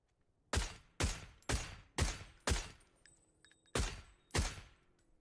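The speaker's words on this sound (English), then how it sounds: "Slam G now taking shots on towards FR as well." Single gunshots ring out in a PUBG esports match, seven sharp reports with long decaying tails, irregularly spaced about half a second to a second apart, loud and clear with no talk over them.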